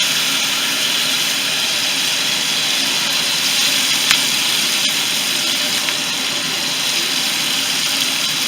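Fish frying in hot oil at a UK fish shop, a steady broadband sizzle and hiss that holds level throughout with a couple of faint clicks and no talk.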